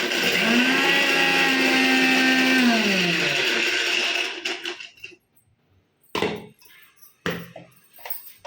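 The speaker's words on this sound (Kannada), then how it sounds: "ಇದನ್ನು ಫಸ್ಟ್ 1-2 ಸುತ್ತು ಆನು ಆಫು ಮಾಡಬೇಕಷ್ಟೇ ಮಿಕ್ಸರಲ್ಲಿ." A kitchen mixer grinder whirs loudly and steadily for about four seconds while grinding salt, green chillies and garlic for brinjal chutney, then is switched off, followed by a few short pulses and clatter.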